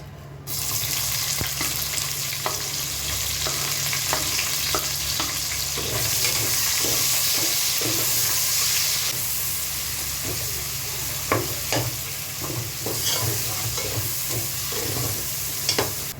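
Bay leaf, dried chilli and onion frying in oil over high heat, a loud continuous sizzle with repeated stirring scrapes and clicks throughout.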